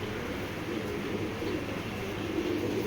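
A young Giasli pigeon pair coos softly and low, set against a steady wash of background noise.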